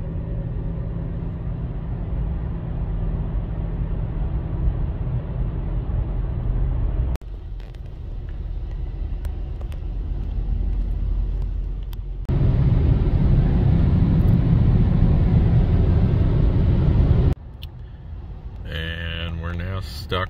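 A car drives through the Allegheny Mountain Tunnel with a steady, loud rumble of engine and road noise. The roar swells and drops in sections and stays close and continuous throughout.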